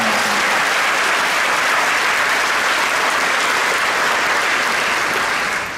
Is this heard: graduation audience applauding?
yes